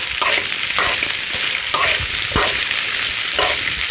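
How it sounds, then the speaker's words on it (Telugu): Okra frying in oil in a pan with a pinch of salt, a loud continuous sizzle broken by regular scraping stirs about every second, close and without voices. "బెండకాయలు వేసుకోవాలి. కొద్దిగా సాల్ట్ వేసాను. చూడండి, ఇలా ఫ్రై చేసుకోవాలి."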